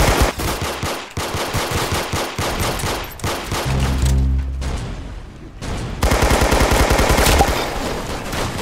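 A Kalashnikov assault rifle rattles off loud, rapid bursts of automatic fire in Roblox, broken by brief pauses and then resuming in a long sustained stream.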